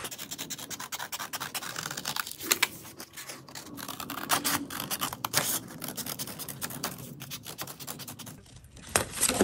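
Scissors cut through paper for a Christmas ornament craft, a close, continuous run of crisp snipping and rasping strokes with brief pauses between cuts.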